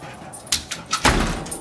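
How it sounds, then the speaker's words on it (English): A dog pushes a door shut on command, giving a short series of bumps and knocks followed by a loud, close thud as the door closes, with a little rattle and a room-filled tail after it. "Shut the door."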